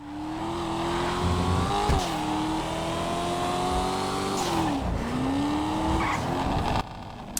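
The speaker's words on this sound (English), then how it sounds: "I'll go ahead and let the sound run for a second so you can hear the car." A steady, throaty old muscle car engine in GTA Online holds a high idle, revving up and down in smooth swells, with a brief tire scrape before it cuts off.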